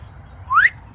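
Someone makes a brief attempt at whistling: one short rising tone, fairly close and a little breathy, over a low background hum.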